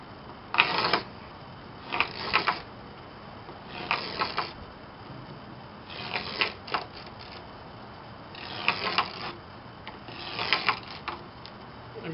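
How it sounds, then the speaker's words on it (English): The edge of a screwdriver is scraped across a cut piece of wood for a small bat house, making rhythmic, raspy scratching strokes in short bursts about every one to two seconds, close and moderately quiet. "I'm just using a edge of a screwdriver. So I'm going to scratch all that up."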